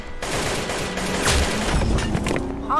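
Rifle fire crackles in rapid bursts during a shooter video game, a dense, close fusillade of shots with a heavier thump partway through and no one speaking.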